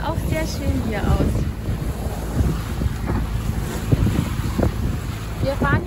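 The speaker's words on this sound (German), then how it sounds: "Es hat 20 Knoten Wind von vorne." Strong wind buffets the microphone aboard a sailboat beating into a 20-knot headwind off the southeast tip of Milos in the Cyclades, with steady rushing gusts and water splashing against the hull throughout.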